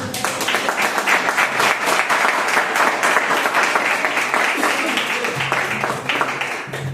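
A church congregation at a Wednesday worship service breaks into sustained, dense applause, loud and continuous for seven seconds, with scattered voices faintly mixed in.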